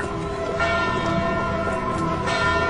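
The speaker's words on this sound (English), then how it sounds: "The watchman rings the bell in the courthouse tower." A courthouse tower bell rings loudly, its rich tones humming and overlapping continuously with no talking.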